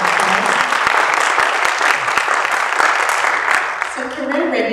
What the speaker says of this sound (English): So let's give ourselves an applause.